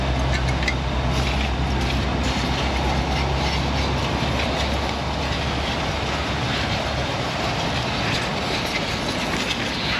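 A garbage can rolls across a car repair shop floor, its wheels giving a loud continuous rumbling clatter that stays close and steady throughout.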